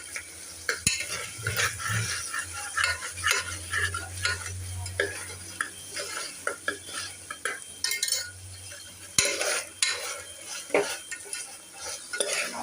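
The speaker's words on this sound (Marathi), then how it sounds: "आता पुन्हा एकदा परतून घेऊया आपण।" Chickpea masala sautéed over a low flame after a pinch of salt, a spoon stirring and scraping the pan in steady strokes over a constant soft sizzle, with occasional clinks of metal on the pot.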